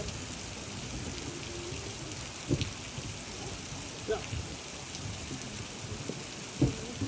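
Steady rain hiss fills the background at a wildlife park in Spain, with a few sharper knocks and drips standing out now and then, no talking.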